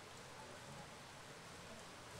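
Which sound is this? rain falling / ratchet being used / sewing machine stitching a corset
rain falling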